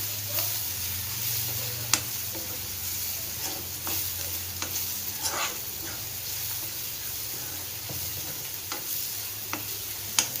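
Tomatoes sizzle steadily in hot oil in a pan, with occasional scraping clicks of a spoon stirring through, close and continuous with no talking.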